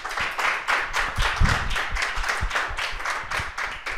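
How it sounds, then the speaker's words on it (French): A small audience claps at an entrepreneur interview event, a loose, fairly sparse rhythm of distinct hand claps with a few louder nearby ones. "Alors pour la première fois, je souhaiterais qu'on applaudisse Claire,"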